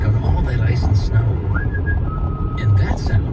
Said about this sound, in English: that sound is our confident driver whistling Beethoven's Fifth